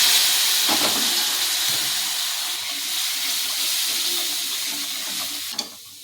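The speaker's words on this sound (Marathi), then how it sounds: "आता आपण यामध्ये थोडंसं पाणी टाकून घेऊया" A steady loud sizzle and hiss from a hot pan of egg curry, as water hits it and steams, settling slightly before a faint clink near the end.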